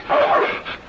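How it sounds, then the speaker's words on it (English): A dog gives a short burst of barking mixed with whimpering yips, close and fairly loud, with a brief pause before a final whine. The scene is a 1948 western. "That's a dog."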